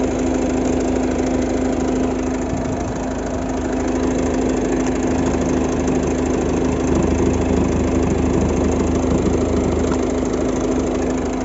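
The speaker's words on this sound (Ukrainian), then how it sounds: "Двигун працює рівненько, тихенько." A 1.6 diesel engine in a Volvo V50 idles steadily and evenly for the whole stretch, a low constant rumble with a faint knocking texture and no other sounds.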